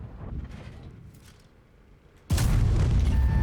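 A tank cannon from World of Tanks goes off in one loud, close blast partway through, following quieter game ambience with rumble, and the heavy sustained roar carries on to the end.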